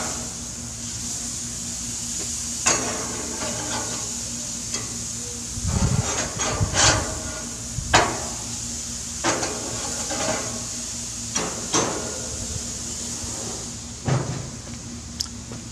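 A steak being flipped on a grill: a steady sizzle runs throughout, broken by several sharp scraping and slapping knocks, close and fairly loud, with no talking.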